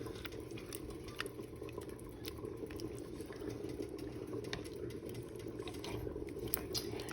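Homemade spaghetti sauce is stirred in a pot, a faint, steady soft bubbling and wet patter with occasional light clicks of the spoon, heard close and quiet without speech.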